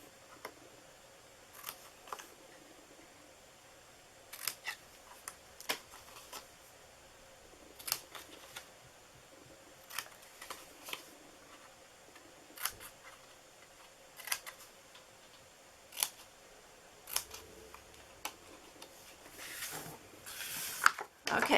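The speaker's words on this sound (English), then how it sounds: "we're going to cut these, and I'm just cutting up a little bit here" Scissors snip through paper pieces for a scallop-topped box, crisp isolated cuts spaced a second or two apart, quiet and close, with a faster cluster of snips toward the end.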